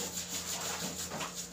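Fingers scrub through the fur of a Bichon–Poodle cross dog during a bath, a steady soft rubbing and rustling that rises and falls in waves, close up with no talking.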